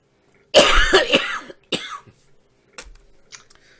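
Several harsh coughs close to the microphone, a loud burst of two or three followed by shorter, fainter coughs with pauses between.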